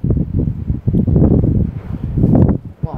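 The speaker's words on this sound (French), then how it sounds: "Oh, le vent!" Strong gusting wind buffets a camera microphone outdoors beside a trail motorbike as a storm builds, producing loud, continuous rumbling bursts that swell and ebb without pause.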